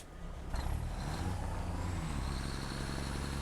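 A large truck drives in the video game Satisfactory, its low engine rumble rising sharply as it kicks in after a brief pause, then droning steadily and loudly, with a faint high whine riding over the motor.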